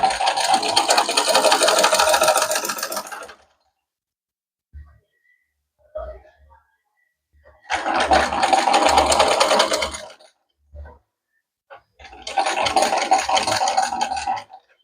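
A sewing machine stitches fabric along a guide for an open seam, running in three long steady bursts of rapid mechanical whirring and rattling. Short pauses fall between the bursts, with faint clicks and handling noises in them.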